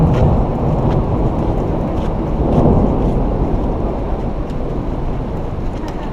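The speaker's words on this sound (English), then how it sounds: "Some serious thunder rolling in." Deep thunder rumbling and rolling through a storm outdoors, a sustained loud low roar with rain-like noise, swelling slightly around the middle and continuing steadily throughout.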